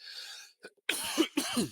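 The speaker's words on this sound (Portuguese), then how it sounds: "desculpa, gente, tô com uma tosse" A woman recovering from influenza coughs several times in quick succession, close and fairly loud, with a brief pause between bursts.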